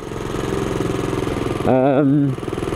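A Honda CB250RS on knobby tyres with its single engine thrumming steadily while riding, close and loud with a pulsing beat, and a voice briefly rising above it partway through.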